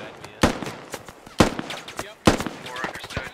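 Close bursts of AK rifle fire in the military shooter game Squad, three sharp loud shots spaced about a second apart over a low background of battle noise and faint distant reports.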